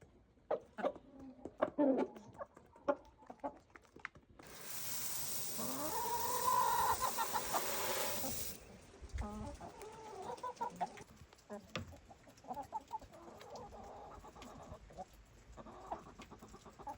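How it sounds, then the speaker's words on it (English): Hens cluck and murmur close by in short, scattered bursts, with a louder rushing noise for several seconds in the middle. "This hen right here has been in with Big Red for about a month now."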